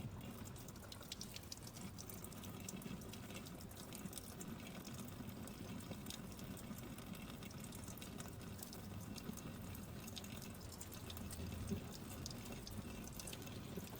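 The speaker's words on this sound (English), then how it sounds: "rinsed them with clean water" Tap water runs steadily while small hands are rinsed, a continuous hissing splash that stays fairly faint and even throughout, with no talking.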